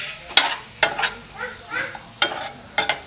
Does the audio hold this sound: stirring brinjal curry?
yes